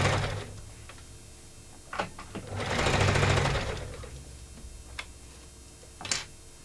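A sewing machine stitches quietly, with scattered ticks and clicks. A short run of steady whirring stitching sits in the middle, with single sharp mechanical taps before and after.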